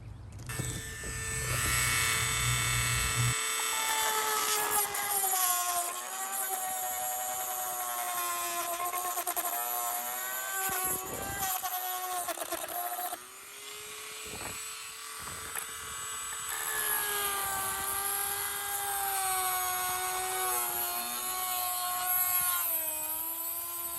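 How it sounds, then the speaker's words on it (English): A Dremel rotary tool cuts rusted metal on a truck, giving a high, steady whine that shifts in pitch as it bites, with brief pauses and restarts, loud and close. "what I did was I used the Dremel"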